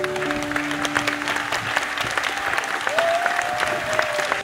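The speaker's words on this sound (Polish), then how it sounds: "A przy okazji brawa dla pana Jerzego Kubiaka." An audience at a high school's 70th anniversary celebration in Oborniki applauds a guest, steady close clapping from many hands throughout, with a few faint tones and murmurs underneath.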